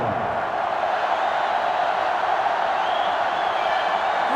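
Stadium crowd noise in the NCAA 06 football video game, Oregon at Washington State, a constant loud roar of a sellout crowd holding steady with no breaks.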